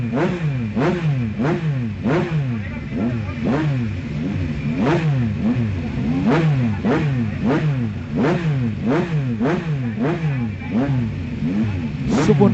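A hill climb competition vehicle at Seethawaka revs hard and repeatedly, its engine rising and falling in quick rhythmic bursts, loud and close for the whole stretch with no talk.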